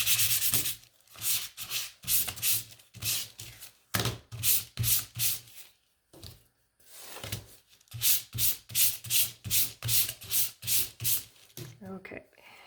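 Painted wooden spice sign letters being hand sanded, with repeated rhythmic rubbing strokes in short bursts and a few pauses, close and fairly loud.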